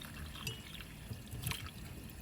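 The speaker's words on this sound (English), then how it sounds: "And add the cold water." Cold water poured into a pot of root vegetables for a Caribbean root vegetable soup, a faint, close trickling splash with a few brief louder splashes.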